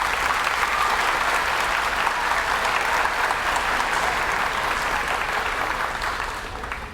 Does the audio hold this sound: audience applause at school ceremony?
yes